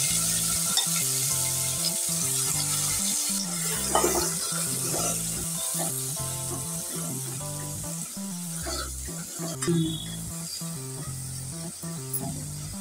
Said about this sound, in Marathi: असा मसाला भाजून घ्यायचा आहे, असं तेल सुटेपर्यंत।